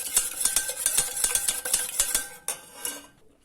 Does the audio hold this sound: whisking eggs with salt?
yes